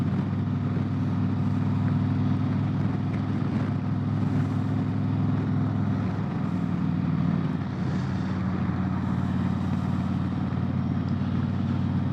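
A Harley-Davidson Road Glide Limited motorcycle engine rolls on the throttle with a steady, loud low rumble that swells briefly around the middle and settles back into a continuous drone while riding, with no talk over it.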